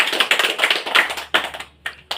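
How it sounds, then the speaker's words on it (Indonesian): A group of children clap their hands in a classroom, a dense run of quick claps for about a second and a half, then a few scattered final claps, close and fairly loud with no talking. "tepuk tangan untuk kita semua"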